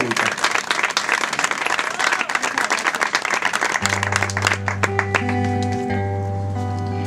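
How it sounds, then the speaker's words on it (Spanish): Audience applause at a Spanish-language poetry and music performance: dense, steady clapping from a crowd, then thinning as sustained instrumental tones come in and carry on beneath it. "quisiera primero que nada dar un aplauso a Rosario"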